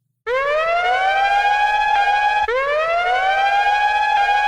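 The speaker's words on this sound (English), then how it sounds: "the fairly common siren sound effect" A loud, sustained siren wail with rich harmonics, a sample from a 1988 track, swelling in two long cycles with a brief break between them, heard on its own.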